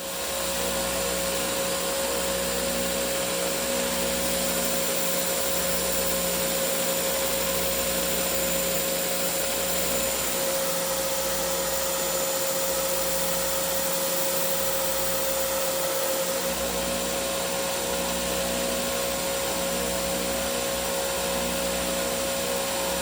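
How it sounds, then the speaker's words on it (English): A belt sander runs continuously close up, a loud, steady mechanical whine with grinding texture as a wood block is rounded, unbroken throughout. "So using the belt sander,"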